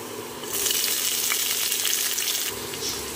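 Chopped onions fry with garlic in hot oil in a pan, a steady, close sizzling hiss that swells after a quieter start and stays loud, with no voices.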